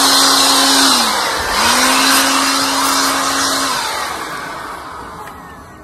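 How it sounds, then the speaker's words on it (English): A leaf blower roars steadily outdoors, close and loud, with a brief dip in engine pitch before it runs on, then it slowly fades a little as it blows leaves. "Let's blow some leaves."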